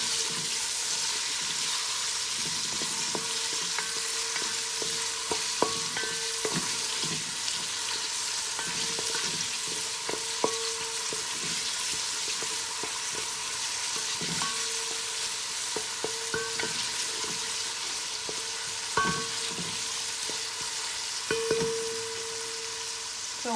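Chopped onions frying in oil in a pan for an aloo pilau, a steady dense sizzle throughout with scattered scrapes and knocks of stirring on top.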